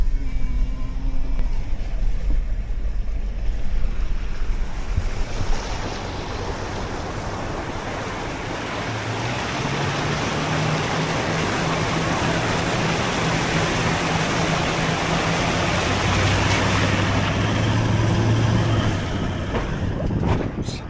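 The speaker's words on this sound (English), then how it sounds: "This is the Hann River." The Hann River flows with a steady, broad rushing wash that fills the whole stretch, strong and continuous, with a low hum running underneath at times.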